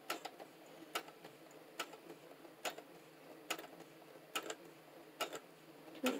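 A sewing machine back stitching along an apron, a quiet run of sharp regular ticks and short mechanical bursts at about one per second, with no talking.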